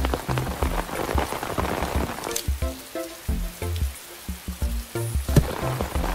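Steady rain sound effect from a Pocoyo weather and seasons toy playset, a soft hiss of falling drops that runs continuously under a repeated voice and bouncy musical tones.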